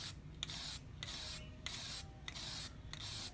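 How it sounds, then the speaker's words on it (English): Short bursts of flat spray paint from an aerosol can hiss in a steady rhythm, five or six sprays separated by brief pauses, close and fairly loud with no voices. "I'm using a light earth, flat spray paint,"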